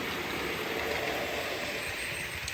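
Model railway locomotives run continuously on a layout as a steady rumbling wash of motor and wheel noise, even in level and with no pauses or speech.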